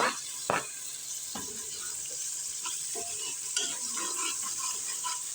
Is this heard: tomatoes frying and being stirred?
yes